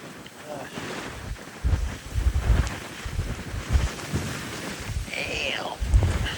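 Strong gusts of up to 60 mph blow beside the wild Northeast Atlantic ocean, low roaring buffets battering the microphone in uneven surges, loud and close throughout.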